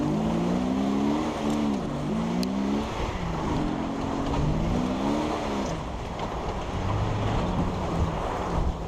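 A 2004 Jeep Wrangler drives off-road and drifts, its engine droning and revving in rising and falling waves under heavy wind buffeting and rumbling tyre noise, loud and continuous throughout.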